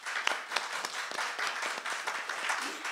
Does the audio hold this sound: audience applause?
yes